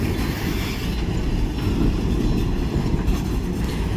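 A loaded freight train rolls steadily through a rail yard, its wheels and cars producing a continuous loud rumble with faint clacking and squeal, with no voices.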